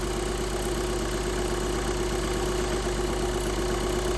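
A car engine idles steadily and alone at close range, a smooth continuous hum with a faint regular pulse and no voices throughout.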